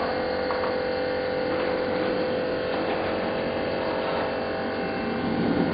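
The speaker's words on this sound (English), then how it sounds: "So what we'll do now is we'll turn the air on." Steady hiss and hum of an Interequip coolant flusher running on compressed air during a radiator flush, a constant mechanical drone without pauses.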